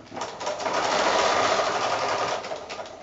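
A sewing machine stitches handles and a folded top edge on a PVC coated fabric shopping bag, a close rapid mechanical chatter that speeds up, runs steadily for a couple of seconds and then slows to a stop.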